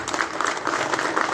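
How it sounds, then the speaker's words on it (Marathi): Audience at a public lecture on Tipu Sultan's life bursts into applause, a dense, steady patter of many hands clapping that holds evenly for the whole moment. "जोरदार टाळ्या झाल्या पाहिजे"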